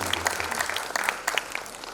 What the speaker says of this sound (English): A big round of applause for the people who are coming here.